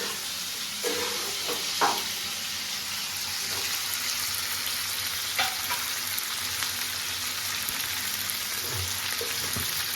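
Green chillies frying in hot oil for homemade butter chicken give a steady, close hiss with occasional soft clinks and stirring scrapes, and no voices over it.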